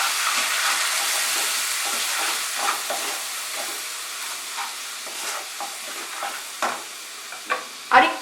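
Spice paste with salt, sugar and a splash of water sizzles and hisses in a pan for a Bengali pui shak and prawn dish, with repeated spatula scrapes and a sharp clink near the end, close and alone.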